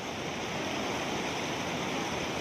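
River water at the Kagbeni confluence in Mustang, where the Kali Gandaki meets the stream coming down from Muktinath, rushes in a steady, dense broadband roar, close and continuous with no voices.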